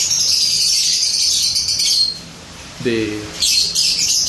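Breeding birds kept together in a cage, six pairs, give off sharp, shrill chirps in bursts, loud and close, while a person talks briefly in the middle.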